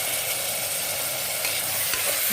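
Tomatoes stirred and sautéed in a masala base for seeraga samba mutton biryani give a continuous, close sizzle and frying hiss, with light scraping of a spoon in the pan and no talking.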